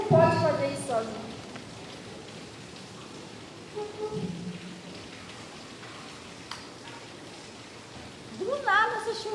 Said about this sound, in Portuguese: Do nada essa chuvinha, não estava nem prevista nada.